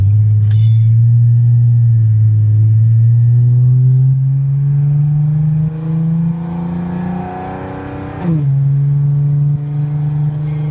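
An Infiniti engine drones loudly through an Invidia Gemini catback exhaust, pitch rising steadily as it revs, dipping briefly, then settling back into a deep, steady rumble.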